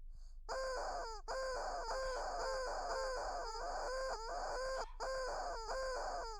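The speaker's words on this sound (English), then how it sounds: "There's a chicken." A video game chicken in Chicken Warrior 7 clucks and crows in a repeating loop, its bright, buzzy calls sounding steadily over a low hum, with no talk.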